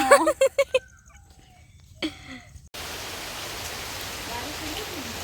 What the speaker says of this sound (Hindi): बारिश होने लग गई है क्या?